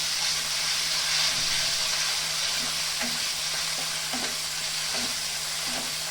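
Ground teasel gourd seeds fry with spices in a pan, a constant dense sizzle and hiss under a low hum, with repeated soft scraping strokes of a stirring spoon and no voices.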